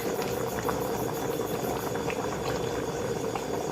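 Sugar syrup boiling in a pot for a Thai sweet potato dessert: a steady, close, bubbling seethe with dense, even popping that continues throughout, with no talk.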